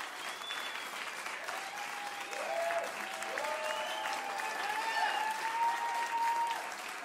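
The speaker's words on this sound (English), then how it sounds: "Let's give them a big God bless you clap." A church congregation claps together during a sermon, a sustained, dense round of applause that builds slightly midway, with scattered shouts and cheers rising over the clapping.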